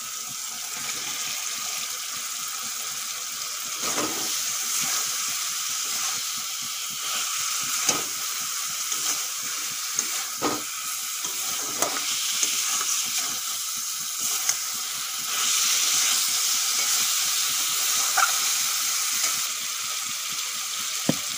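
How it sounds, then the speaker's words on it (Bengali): Okra fried with spices in a pan for a dhaba-style dish, giving a steady broadband sizzle with occasional soft stirring knocks, close and moderate in level, no talk. "মশলার সঙ্গে 2 মিনিটের মতন ভেন্ডি ভেজে নিয়েছি"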